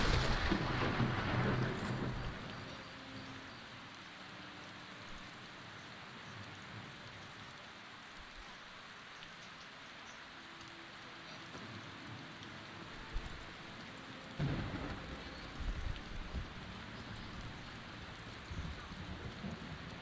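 Steady rain falling in a dark video game world, a soft continuous hiss on surfaces with a faint low rumble and a few louder bursts partway through.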